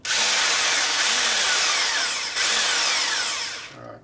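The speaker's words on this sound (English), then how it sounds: "Now we got a new drill in here." A new power drill runs loud and steady, drilling out a stripped Allen bolt on a Harley Showa part, grinding into metal, with a brief dip midway before continuing and then stopping.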